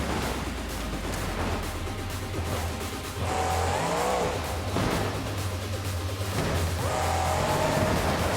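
Monster Jam monster trucks in a mud battle at an arena, their engines giving a loud, sustained roar that surges and revs with rising whines, under a constant wash of crowd and venue noise, with no voices.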